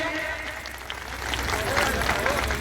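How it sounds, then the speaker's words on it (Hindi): Loud applause from a village gathering greets booth and sector party officials at a workers' felicitation ceremony in Barapur, Zahurabad, Ghazipur. The clapping swells after a moment, with a hum of voices and a public-address tone running underneath. "जोरदार ताली बजा करके स्वागत करिए, जोरदार ताली बजाइए"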